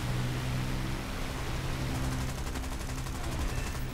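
Spitfire machine guns fire in a War Thunder air battle, a rapid, sustained rattle of bursts over the constant roar of the aircraft, with no talking.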